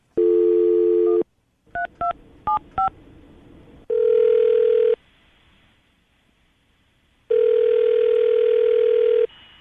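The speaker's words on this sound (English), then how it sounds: "we'll call her, see if we can get her on the phone" A phone dial tone hums, a quick run of touch-tone beeps follows, then a ringback tone sounds twice with silence between.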